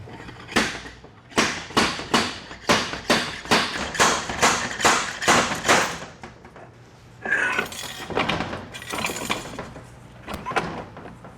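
A series of sharp metallic knocks repeats in a steady rhythm, about a dozen close hammer-like impacts from a slide hammer pulling the pump from a Ford AOD automatic transmission, followed by a rougher scraping clatter.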